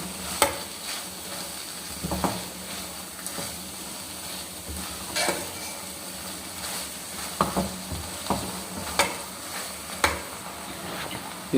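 Grated carrot halwa cooking with desi ghee in a pan, stirred with repeated scraping and clacking strokes over a low sizzle, close and fairly even in rhythm.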